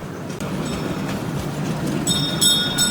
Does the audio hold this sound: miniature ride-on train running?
yes